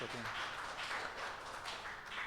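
A church congregation claps to welcome new members at a Sunday service, a soft, distant and continuous patter of many hands.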